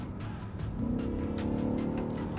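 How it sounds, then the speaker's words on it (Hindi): A BMW XM SUV with a V8 engine, floored in M mode, rising in pitch as it accelerates, a fairly faint growl building steadily over background noise with no voices. "आपको एक वो V8 वाला आवाज़ मिलता है"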